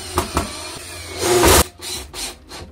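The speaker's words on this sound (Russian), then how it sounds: "Сейчас мы его закрепим быстренько на саморезы к столу." A power screwdriver drives self-tapping screws to fix a homemade clamp to a table, with a few brief knocks followed by a loud whirring burst and shorter bursts after it, close up, with no talking.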